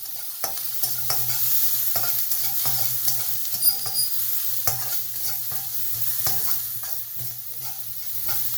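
Capsicum and onion sizzle in a pan while a spatula stirs them in quick, regular scraping strokes, close and steady over a low hum, with no talking.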